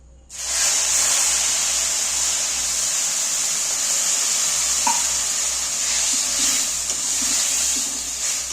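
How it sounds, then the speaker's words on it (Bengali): Water poured into roasting semolina for suji halwa sets off a loud, sustained hissing sizzle right after a quiet start, with a few soft stirring clinks mixed in. "এইবার আমি পরিমাণ মতো জল দিয়ে দেবো"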